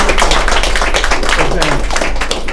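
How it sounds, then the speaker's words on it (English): An audience at an art event applauds: steady, dense clapping that carries at full loudness through the whole stretch, with no voices over it. "So give them a huge round of applause for making such a wonderful"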